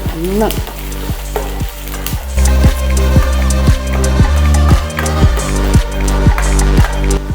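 Chopped carrot sizzles loudly in a pan for Maggi bread roast. A close, constant frying hiss is layered with a regular pulsing low hum and occasional stirring clatter.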